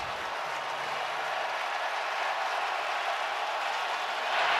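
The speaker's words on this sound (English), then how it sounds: "Crowd on its feet, urging on the defense here on a 3rd and 15" A stadium crowd at a 2017 Raiders vs Titans football game roars on third and 15 to urge on the defense, a dense, continuous wall of cheering that swells slightly at the end.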